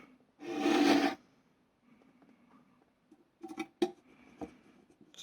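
A screw being driven into a part of an Enterprise D model: a loud scraping rasp up close, followed by a few small clicks and scratchy turns, with quiet gaps between them.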